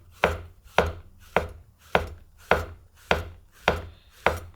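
A knife slices shiitake mushrooms thinly in eight crisp, evenly spaced strokes, close and clear with nothing else audible.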